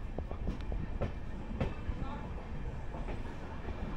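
The Gour Express passenger train at Naihati station produces a steady low rumble with faint rhythmic clicks of wheels on rails, continuous and fairly close, with no clear voices.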